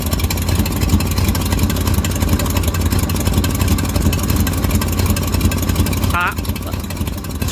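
Simca Marmon 4x4 engine idling nearby with a steady low rumble, while a voice talks briefly over it.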